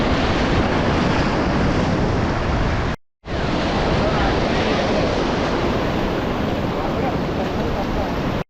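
Ocean surf rolls onto Thanthadi beach in Vizag as a loud, steady wash of breaking waves, roughened by wind buffeting the microphone, with a brief break in the sound partway through.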